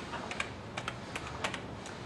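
Quick, close clicking of keys on an external keyboard connected to a Samsung Galaxy Nexus Android phone, a short run of light taps with no talk.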